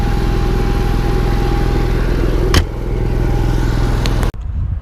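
An RV generator aboard a Coachmen Mirada 35BH Class A motorhome runs smoothly, a loud, steady close-up drone with an even low throb, briefly disturbed by a knock before cutting to quieter sound at the end.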